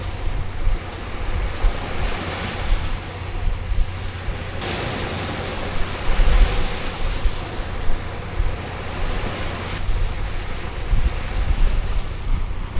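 Strong wind roars across a cold seashore while sea waves surge and wash continuously, a broad steady rush with buffeting gusts and no voices.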